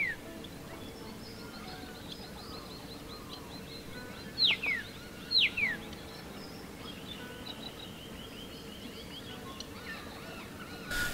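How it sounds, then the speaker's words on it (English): Two short, sharp calls of a black-tailed native hen at its nest stand out over a steady outdoor background, with faint distant chirps scattered around them. "on arrival, it gives a loud call, signalling it is time for change of shift"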